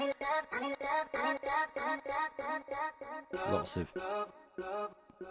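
A rhythmic synth pattern repeats in steady pulses, each echo bouncing back with dubby quarter-note delay repeats that sweep slowly from side to side.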